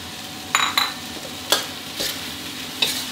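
Chicken and holy basil stir-fried in a hot wok: a steady sizzle broken by several sharp spatula scrapes and clanks against the metal at irregular intervals.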